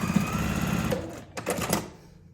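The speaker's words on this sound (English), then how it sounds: "And sew a 1/4 inch seam allowance." A domestic sewing machine runs a quarter-inch seam in a steady, fast mechanical whir that slows into a few short bursts before stopping, close and fairly loud with no voices.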